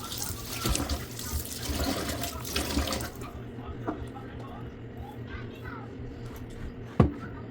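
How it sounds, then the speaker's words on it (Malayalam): Fish rinsed under a running kitchen tap before cutting, a broad steady water rush for the first three seconds, then quieter sink sounds with faint clinks and a sharp knock near the end. "അപ്പോൾ ആദ്യം തന്നെ ഞാൻ അത് ഒന്നായിട്ട് മുറിക്കുന്നതിന് മുമ്പ് ഒന്ന് കഴുകി"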